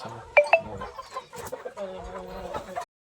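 A rooster gives a couple of sharp squawks and clucks close by, with a voice talking over the farmyard noise.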